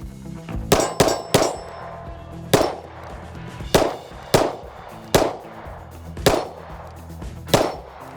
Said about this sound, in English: Pretty easy getting hits on that little 5-inch flapper out there.